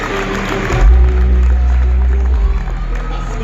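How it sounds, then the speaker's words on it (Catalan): Loud applause and some cheering from a crowd at a youth basketball school's season presentation, a sustained wash of clapping with low rumbling underneath, continuing steadily throughout. "un fort aplaudiment"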